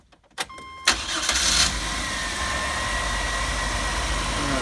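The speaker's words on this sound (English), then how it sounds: "Start it up." A car that wouldn't start in damp weather, fitted with a new cap, rotor, plugs, wires and coil, cranks briefly, catches and settles into a steady idle close by.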